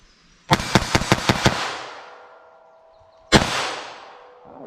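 A rifle fires .22 LR Aguila Interceptor 40-grain rounds: six sharp shots in quick succession, each ringing out with a long outdoor echo, then a pause and one more loud close shot.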